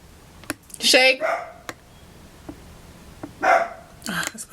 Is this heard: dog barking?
yes